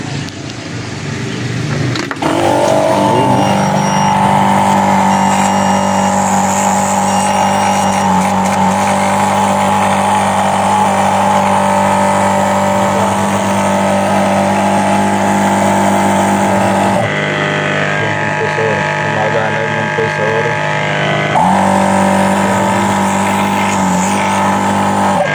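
A water pump starts up and runs with a loud, steady motor drone close by, its tone shifting briefly partway through before settling back.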